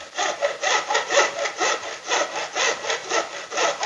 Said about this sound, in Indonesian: terus melakukan proses gergaji